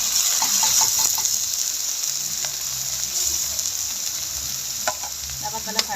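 Upo gourd and canned sardines sautéing in a pan, a steady close sizzle with scattered clicks and scrapes from stirring, no talking.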